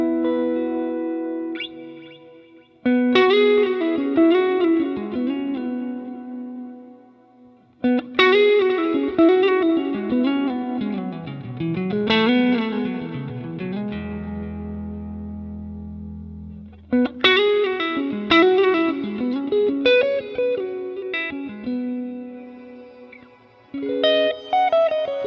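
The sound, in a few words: electric guitar through glitz reverb effect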